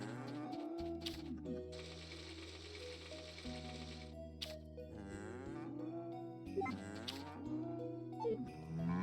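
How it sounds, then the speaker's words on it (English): Cows in the farming video game Story of Seasons: A Wonderful Life, several drawn-out mooing calls over a tonal, musical game background, some calls rising and falling in pitch, moderately loud. "Cows, cows, cows,"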